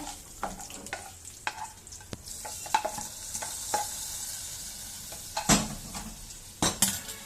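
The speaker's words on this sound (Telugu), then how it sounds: "నెయ్యి వేసానండి పోపు" Ghee tempering with curry leaves sizzles in a pan for a broad bean (goruchikkudukaya) kootu, with a spoon scraping and clinking against the metal in irregular strokes, close and moderately loud, no talk.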